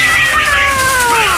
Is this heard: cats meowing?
yes